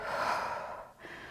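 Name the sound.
deep breath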